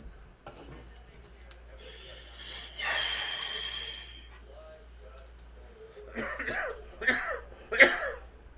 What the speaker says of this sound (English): Now don't start that coughing.